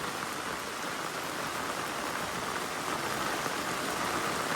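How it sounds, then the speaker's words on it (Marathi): Heavy rain falls steadily outdoors, a dense continuous hiss of drops on surfaces, even and unbroken throughout. "पावसान जोरच केला ना आज."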